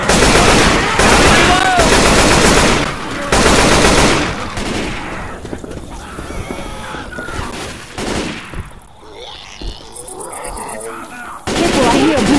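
Rapid gunfire in the Left 4 Dead 2 video game: dense bursts of automatic shots come in loud stretches separated by quieter gaps, with players talking over the action.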